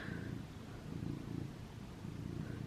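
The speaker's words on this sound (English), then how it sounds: "Can you hear her purring? Her purrs are so loud." A pet cat purrs loudly and steadily up close, a low rumbling pulse rising and falling with each breath, continuous across the whole stretch with no voices.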